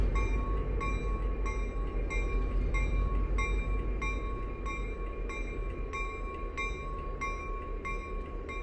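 A locomotive at the Strasburg Railroad moves off to switch tracks, rumbling steadily with a low, heavy roar and regular clicking of wheels over rail joints, continuous and fairly close.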